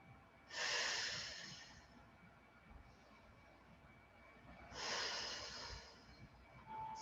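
Two slow, deep belly breaths during a lower back stretch, each a long airy exhale heard close and fairly soft against a quiet room.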